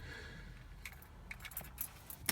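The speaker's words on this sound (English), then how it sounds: "I stick my key in the ignition" Keys jangle and scrape as a key goes into the ignition of a BMW E46 M3 on a cold morning, a soft close metallic rattle ending in a sharper click.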